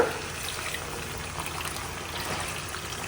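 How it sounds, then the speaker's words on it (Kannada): Water poured into a cooking pot holding spices including cumin powder, a steady, close trickling and splashing stream lasting the whole few seconds with no voices. "ಈಗ ಇದಕ್ಕೆ ನೀರನ್ನ ಹಾಕೊಳ್ಳೋಣ"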